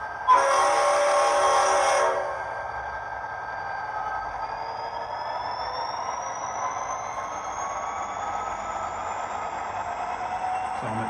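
An Auscision model train rolls along a layout, opening with a loud horn blast for about two seconds, then a steady low running hum and a slowly rising whine as it climbs a grade.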